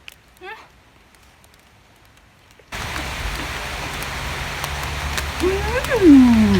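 Rain begins abruptly partway through, a sudden steady hiss pouring down outdoors beside a fence during a meal of spicy papaya salad, with a voice sounding over the downpour.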